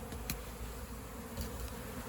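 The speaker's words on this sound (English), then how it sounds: "here's the entrance out here. And it's a really busy hive" Busy honeybee hive in a shed floor, a faint, continuous buzzing hum with a few brief louder bursts of nearby bees.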